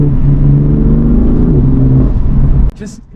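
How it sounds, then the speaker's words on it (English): A six-cylinder car engine drones loudly and close, a steady rich low hum with a slight pitch shift, then it cuts off sharply near the end leaving a faint trailing noise. "and the heart and character behind a 6-cylinder,"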